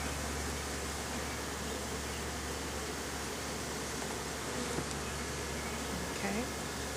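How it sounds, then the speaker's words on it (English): A dense, steady drone of honeybees fills a beehive inspection, loud and continuous without a break, with faint voices underneath. "That's a lot of bees there."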